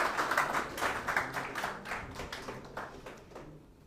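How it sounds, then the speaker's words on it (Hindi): An audience claps to welcome a speaker on stage at a fellowship program closing ceremony in India, brisk crisp clapping that starts strong and gradually thins and fades out over four seconds. "जोरदार तालियों के साथ पवन सर का स्वागत"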